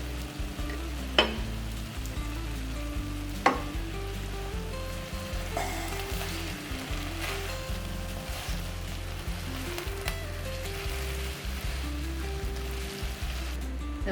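Sambar masala fries in a pan, a soft steady sizzle with occasional sharp clinks of a utensil against the pan.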